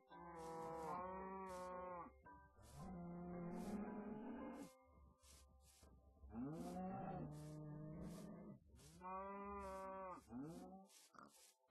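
Minecraft cows moo in four long, drawn-out calls separated by short pauses, quiet overall, with faint clicking in the background.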